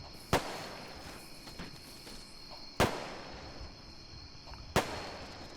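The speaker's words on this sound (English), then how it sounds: "I'm just going to get behind the barrier and just kind of lob some grenades over" Grenades lobbed over a barrier explode in Arma 3, three sharp, booming blasts spaced a couple of seconds apart, each with a short decaying tail over a faint ambient bed.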